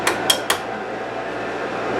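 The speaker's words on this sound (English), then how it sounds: "So we're going to use the teeny tiny hammer." A teeny tiny hammer taps a pin through a bowling machine part on a tabletop: three quick, sharp metallic clinks close together, then quiet room tone.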